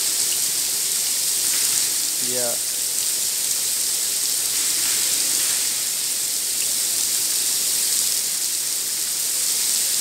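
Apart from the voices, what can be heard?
artificial rain falling in the Sharjah Rain Room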